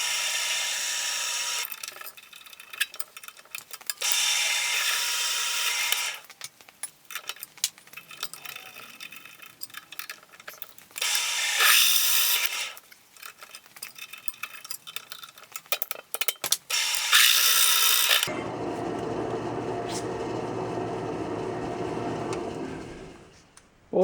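A drill bores a small pilot hole into a metal strap for trailer ramp support bars, with several loud, steady bursts of whirring and grinding separated by quiet gaps and clanks, then a different lower mechanical hum.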